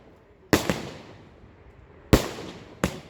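Three sharp, loud bangs from an Epic Fireworks Punisher 25-shot 1.3G firework cake, each burst ringing out and fading, with two close together after a long gap.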